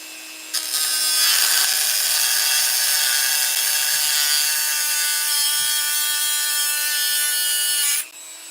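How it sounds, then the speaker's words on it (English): Small tube rivet on a Tonka toy cut with a power tool: a loud, sustained high-pitched whining grind with a bright metallic edge, starting abruptly and stopping cleanly after several seconds. "I was cutting through the little tube rivet"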